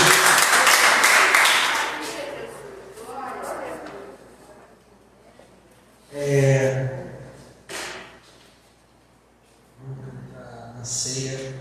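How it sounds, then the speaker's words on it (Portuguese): Church congregation applause, loud at the start and fading over the first few seconds, followed by someone speaking and singing with short pauses. "dê um lindo aplauso ao Senhor"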